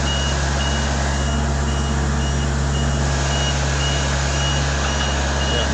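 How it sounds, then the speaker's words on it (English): Reversing beeps from a vehicle running on an HR21D / SP64D drive repeat at a steady rhythm for the whole stretch, riding over a constant low electrical hum and broadband machine noise. "Okay, so I'm gonna just go reverse now."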